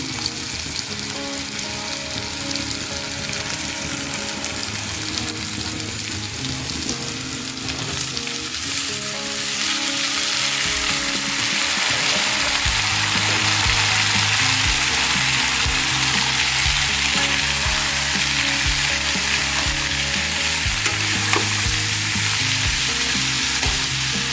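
Chopped pumpkin frying with already browned onions for a traditional Assamese fish and pumpkin fry, a loud, dense, continuous sizzle close to the pan that grows fuller after the pieces go in.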